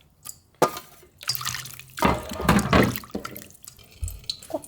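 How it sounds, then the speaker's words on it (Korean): Cucumbers are rinsed under a running kitchen tap, close, uneven bursts of gushing and splashing water with brief pauses and dripping between them. "오이를 한번 살짝 헹궈서 짤 거예요."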